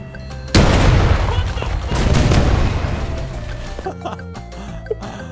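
Bomb explosions in War Thunder tank combat: a sudden heavy blast bursts in and rumbles on, followed by a second loud boom and a long decaying roar, with scattered crackles and faint chatter fading out at the end.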